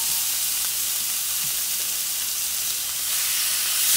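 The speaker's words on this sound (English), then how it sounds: "Yeah, you like that sizzle." Loud, dense sizzling of food frying in a pan, a steady hiss that fills the whole clip without any talking.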